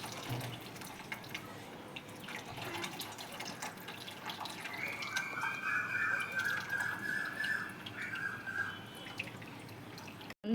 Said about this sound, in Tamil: புளி கரைசலை வந்து நம்ம வந்து இதில் ஊற்றிட்டோம்